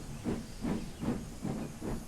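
Steam locomotive puffing rhythmically under a steady hiss, five even chuffs in quick succession, close and moderately loud, with no voices.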